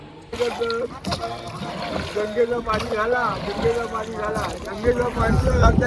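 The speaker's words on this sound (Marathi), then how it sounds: "परत बोटीने जायचं आम्हाला चंद्रभागेतून त्या बाजूला" A boat crosses the Chandrabhaga river at Pandharpur with a steady low rumble and some wind noise, while people talk and chant loudly nearby throughout.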